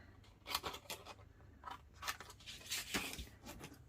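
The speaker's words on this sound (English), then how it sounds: "I'm going to cut one of these out just to see what it looks like" Scissors cut out a piece for a scrapbook layout in a series of close, crisp snips, about eight to ten sharp blade closes at an uneven pace in a quiet room, with no speech.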